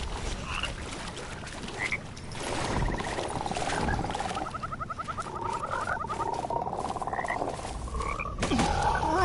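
Frogs croaking in the game Mortal Shell, repeated raspy croaks and trills over a pattering, busy ambient background, close and fairly loud with no talk.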